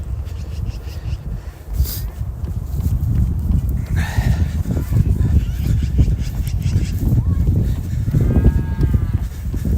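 A cow moos among livestock noises on a rural trail, with a drawn-out low call near the end over steady background rumble and some shuffling, fairly close.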